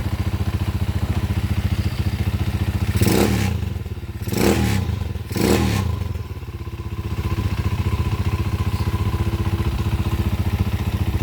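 A 200cc motorcycle engine idles with a steady fast putter, revved three times in short bursts mid-way, then settling back to a rhythmic idle.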